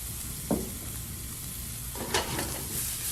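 Delicate morel mushrooms saute in a pan of prime rib fond, a steady close sizzle broken by a couple of brief stirring scrapes, with no talk.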